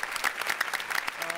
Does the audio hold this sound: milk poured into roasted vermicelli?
no